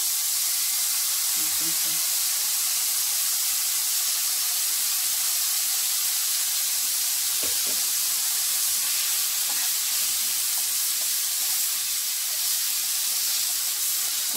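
Mushroom cream poured into a hot pan of fried gnocchi, giving a steady loud hiss and sizzle that runs unbroken throughout, with a brief spoken word at the start.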